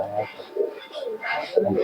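Soft, low coos from a ten-year-old pigeon repeat in a few short phrases close by, with a faint voice in the background.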